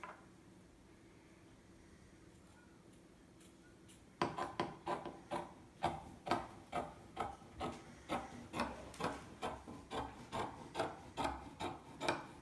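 Scissors trimming the fabric edges of a photo pillow, a steady run of crisp snipping cuts in even rhythm, close and clear with no talk, after a few quiet seconds.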